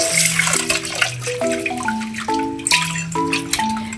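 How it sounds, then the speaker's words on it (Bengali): Chicken gizzards and liver being washed in water, with close splashing, trickling and swirling water and shifting hollow tones as a vessel fills, continuous and fairly loud. "আর এখানে আমি অনেকগুলো গিলে কলিজা নিচ্ছি আজকে ভোর রাত্রের জন্য, আর সন্ধ্যা রাত্রের জন্য এগুলাই আমরা খাবো। তো এগুলা ভালো করে ধুয়ে নিচ্ছি।"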